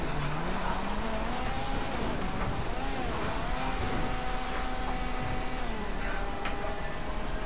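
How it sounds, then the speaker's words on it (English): Turbocharged car engine in a video game, droning and shifting in pitch as the car speeds along, with a whistling turbo tone over a steady engine roar. "You can hear the turbo."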